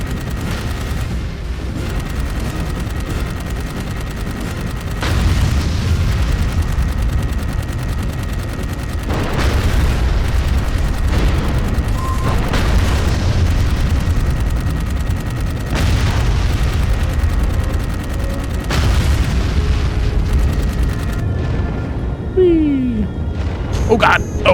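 Repeated heavy cannon booms and blasts in the video game Dark Void roll through a continuous roar of battle noise, with heavy gunfire in the background.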